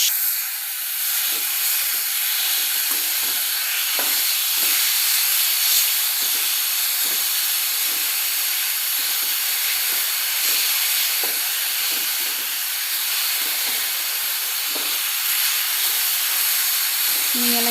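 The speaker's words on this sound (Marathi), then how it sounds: "आता यात आपण किसलेलं बीट टाकूयात। आणि याला छान असं मिक्स करून घेऊयात," Grated beetroot sautéing in two spoons of ghee for beetroot halwa: a steady close hiss of sizzling, broken by light scraping taps as it is mixed, continuing evenly throughout.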